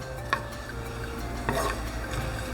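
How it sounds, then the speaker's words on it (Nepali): Coconut and almonds being slowly dry-roasted in a pan over low heat for Nepali suji halwa, with soft steady stirring and scraping and a few light clinks of the spoon against the pan. "अब यसमा म नरियल र यो अलमन्ड पनि राखिदिन्छु। यसलाई पनि बिस्तारै भुटौँ।"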